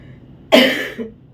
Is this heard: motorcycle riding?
no